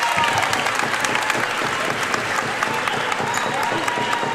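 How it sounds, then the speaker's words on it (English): A home crowd at a high school playoff volleyball game erupts in loud, sustained applause and cheering that fills the gym. "Crowd erupts on that one"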